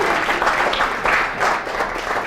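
An audience at a community program on shellfishing claps together, a thick, steady burst of applause that swells and dips slightly over a couple of seconds, with no speech.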